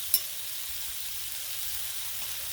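Burgers sizzle on a Blackstone griddle with a steady, soft hiss of frying fat and one brief click at the start. No voices are heard.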